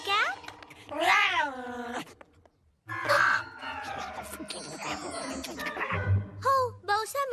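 A cat character voiced in a Telugu cartoon gives drawn-out, wavering angry meows and yowls, several loud close calls alternating with speech and background music.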